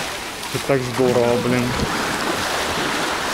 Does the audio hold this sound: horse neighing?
no